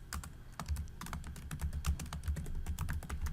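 Steady typing on a computer keyboard, quick irregular key clicks close up and fairly quiet, with no talking.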